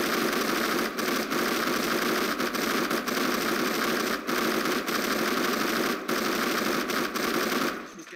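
Sustained, loud machine gun fire from the video game Men of War Assault Squad 2, a dense unbroken stream of rapid shots with brief dips, running nearly the whole clip before cutting off at the end.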